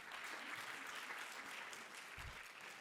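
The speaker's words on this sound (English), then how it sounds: "That deserves a big round of applause." Audience applause at an awards ceremony honoring teachers, steady dense clapping from a crowd throughout, moderately distant and even, with no talk over it.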